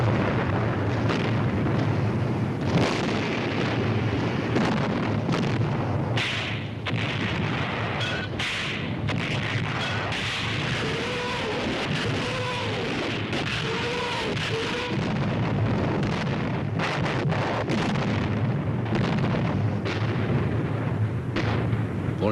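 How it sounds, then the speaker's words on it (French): Heavy artillery bombardment during the wartime siege of Bastogne, a dense continuous roar of shellfire and explosions with rumbling booms and sharp blasts overlapping throughout. "c'est le pilonnage d'artillerie le plus terrible du siège"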